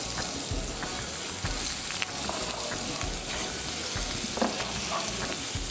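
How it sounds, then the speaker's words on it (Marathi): Chopped onion sautéing in a hot pan with dried green chilli, a steady dense sizzle throughout, close and continuous, with faint scraping of a spatula now and then. "हा कांदा परतून घेऊया"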